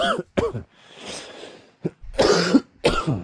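A person coughs repeatedly in close, sharp bursts, with short breathy pauses and a throat-clearing rasp between them, and no talk.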